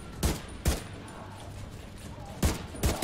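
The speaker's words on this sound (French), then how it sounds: "C'est moi qui ai tiré." Gunfire in The Division 2: four sharp, loud shots, two close together at the start and two more after a pause, each a distinct crack over a steady low background.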